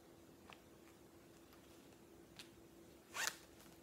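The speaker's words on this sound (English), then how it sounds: "you have the zipper" A purse zipper gives a few faint, brief zips, then one longer, louder pull near the end in a quiet room.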